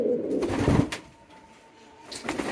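Pigeons at a nest give a short, close burst of low cooing and wing or body rustle, then a quieter pause before the cooing picks up again.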